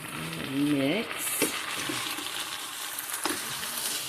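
Potatoes, kielbasa, mushroom and green pepper frying together in one pan, a moderate sizzle with spatula stirring and scraping; a brief voice is heard near the start.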